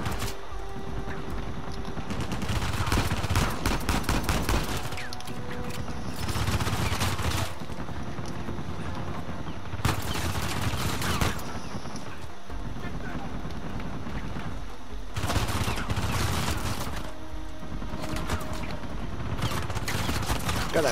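Gunfire in Uncharted 4, including sniper shots, heard as repeated loud cracks and bursts of rapid firing over a steady roar of game ambience, broken by brief pauses.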